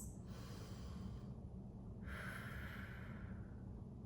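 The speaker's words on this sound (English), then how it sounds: "take slow, deep breaths" Slow, deep breaths drawn in and let out, a long soft exhale followed by a brighter, breathy inhale, close and quiet with no talking.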